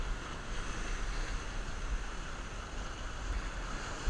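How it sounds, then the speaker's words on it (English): Ocean waves crash and wash against a rocky shore ledge at Cape Neddick, Maine, giving a continuous loud roar of surf with wind noise and no voices. "these waves are kind of unpredictable today"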